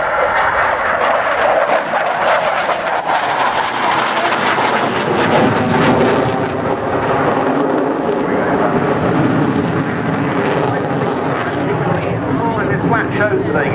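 A MiG-29 jet flies an air show display at RIAT 2013, a steady, loud, broad engine roar that swells and holds throughout while a commentator talks over it.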